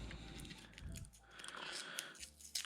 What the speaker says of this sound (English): Dragon Ball chewing gum